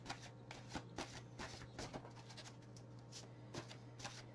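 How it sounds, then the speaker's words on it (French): Tarot cards shuffled and drawn by hand, a steady run of soft papery riffles and flicks with sharper snaps here and there, close and fairly quiet over a low steady hum. "J'aimerais retirer une dernière carte"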